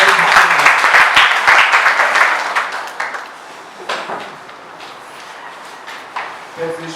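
A church congregation applauds together in a dense burst of clapping that fades after a few seconds into scattered claps and shuffling.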